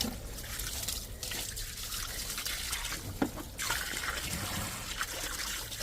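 Water trickles and gurgles steadily down an outside drain after it has been cleared with drain rods, a continuous soft liquid flow heard close by with no talking.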